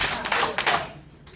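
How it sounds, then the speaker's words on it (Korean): A person claps their hands three times at a health lecture on MSM sulfur supplements. The sharp, close claps come in a quick uneven run, and a faint softer tap follows. "앞에서 박수 3번 시작"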